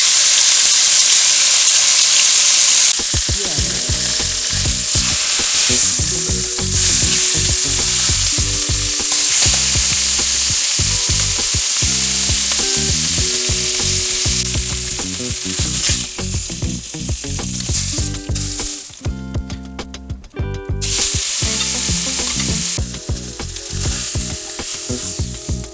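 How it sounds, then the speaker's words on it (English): Beef cheeks sear meaty side down in a hot pan for a braise, giving a loud, steady sizzle that runs unbroken for the whole stretch with no talking. "I'm just going to place the meaty side down. And we're going to sear this for at least 4"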